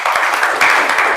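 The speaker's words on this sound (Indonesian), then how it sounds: "tepuk tangan buat Kaisa." Sustained applause from a classroom group, a dense steady patter of many hands clapping close by for the whole moment with no voices over it.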